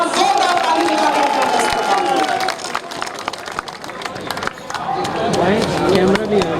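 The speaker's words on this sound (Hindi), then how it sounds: "एक बार जोरदार ताली लगाकर" A crowd at a political rally at Jantar Mantar claps loudly in a dense, sustained wash of applause, with a voice and crowd noise mixed in.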